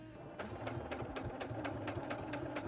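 A sewing machine stitches a fabric wristlet keychain along a quarter-inch seam, its needle chattering in quick, even repeated clicks over a low motor hum at close range.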